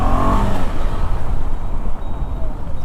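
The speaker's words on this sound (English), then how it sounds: "Damn, I hate when this thing stalls." A KTM 390 Adventure motorcycle engine rumbles low and close, loud and a little uneven as it struggles to hold a higher gear, with no talking.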